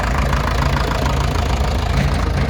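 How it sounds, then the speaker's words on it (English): A Ferguson T20 tractor engine runs steadily as it goes round in a show parade, a loud, close, even low rumble and chug that holds for the whole stretch with no talk over it. "the first tractor is going round"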